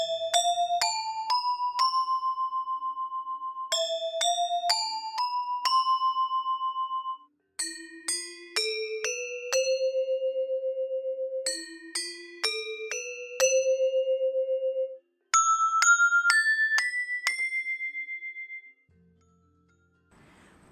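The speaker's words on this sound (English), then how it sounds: "Slendro is a 5 equidistant tones in an octave," Indonesian gamelan metallophone playing the five-tone slendro scale, clear single struck bronze notes stepping through short ascending and descending runs with ringing sustains, alone and moderately quiet.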